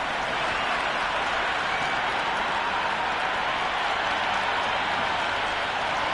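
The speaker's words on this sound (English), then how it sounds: "this crowd is already making it hard for me to be heard" Steady, dense roar of a large stadium crowd at a video-game cricket match, filling the whole stretch evenly at high volume with no breaks or distinct claps standing out.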